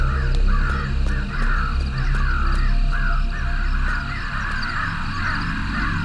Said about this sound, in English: Why are there birds everywhere?